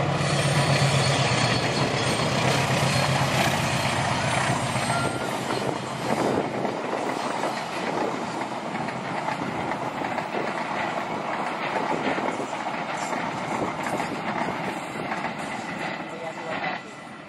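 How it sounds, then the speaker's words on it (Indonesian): The Argo Wilis passenger train rumbles past near rice fields at dusk, a steady, loud rolling roar with rhythmic wheel clatter and squeal, while people talk nearby. "Ini dia kereta api Argo Wilis."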